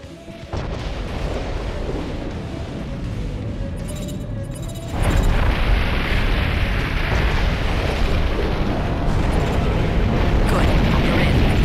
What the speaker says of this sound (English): Those cannons will rip you to shreds.